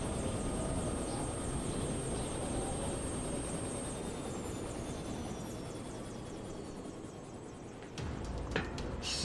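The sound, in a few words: helicopter in video game Yakuza Kiwami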